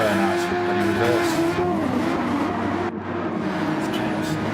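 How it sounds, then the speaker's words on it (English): Remote-controlled race cars at a P1RCs super-Formula round at Circuit de Spa-Francorchamps spin their tires in burnouts, giving a loud, continuous whine and squeal of revving motors with wavering pitch that overlaps talk throughout. "Burnouts and reverse."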